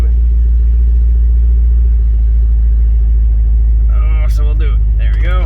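Jeep WJ with a newly installed 4.7L engine idling, a steady low rumble running throughout, with people talking briefly near the end.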